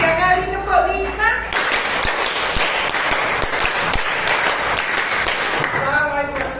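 A group claps out a rhythmic Indonesian 'tepuk 5' pattern, three rounds of five claps during a school coaching session, loud and close for several seconds, with voices speaking just before and after.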